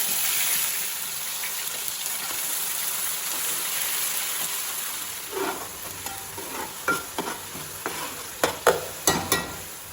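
Oil sizzles steadily as cumin, mustard seeds, fenugreek, onion and ginger paste fry in a pan for a fish curry, with a string of sharper stirring scrapes and pops growing louder toward the end.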